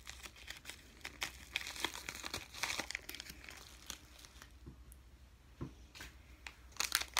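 A small padded envelope is handled and crinkled up close, with irregular rustles, crackles and scrapes in bursts, louder near the start and end.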